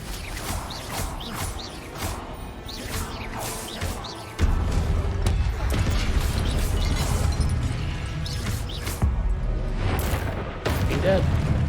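Hogwarts Legacy combat with a Confringo fire spell: a heavy burst and crash jumps in around four seconds, with repeated impacts and busy battle noise loud through the rest, a player talking over it.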